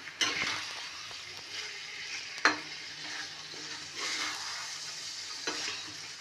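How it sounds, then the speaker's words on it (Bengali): Onions sizzle in hot oil in a pan for a tangra fish curry, a steady frying hiss broken by several distinct scraping stirs and a clack of a spatula against the pan, with no speech. "চলো পেঁয়াজগুলো একটু ভালোভাবে লাল লাল হয়ে ভাজা ভাজা হোক"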